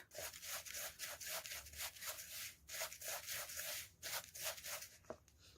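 Dry spices such as mango powder, Kashmiri masala and black salt being stirred together by hand for oats mukhwas, a steady rhythmic scraping and rubbing repeated many times in quick strokes, close and fairly quiet with no talking.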